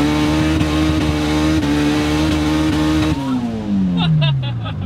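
A modified Honda Odyssey minivan running a swapped H22 engine with a manual transmission conversion, loud, close engine drone holding high revs, then the pitch sweeps down as it shifts with sharp exhaust crackles.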